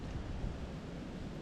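Wind blowing across a south Alabama river bottom on a rough, cold day, a steady broadband rush with gusty buffeting against the microphone, faint and unbroken.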